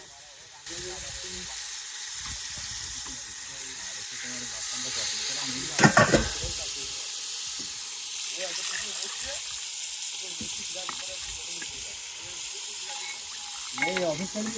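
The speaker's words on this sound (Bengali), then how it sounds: "তরকারিতে ভেজে রাখা মাছ দিয়ে দিলাম এভাবে পনেরো থেকে বিশ মিনিট জাল দেব" Fish curry cooks on a stove aboard a fishing boat in the Bay of Bengal, with a steady sizzle and bubbling broken by a few louder clatters and stirring sounds.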